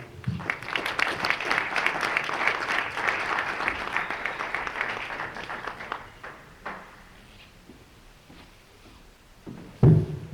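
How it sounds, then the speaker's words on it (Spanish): An audience applauds to welcome a professor at a Catholic evangelisation lecture, a dense burst of clapping for about six seconds that thins into scattered claps, then a brief thump near the end. "Recibimos con un fuerte aplauso al profesor Jorge Eduardo"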